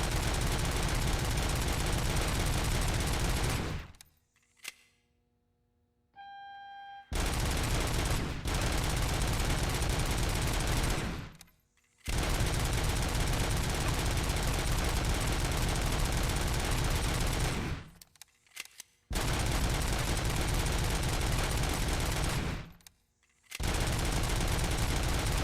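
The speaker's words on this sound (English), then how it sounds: "I think a fully automatic shotgun might just be a little bit crazy." Fully automatic shotgun in Robocop: Rogue City, roaring in long sustained bursts of rapid, loud blasts, with a few brief pauses between volleys.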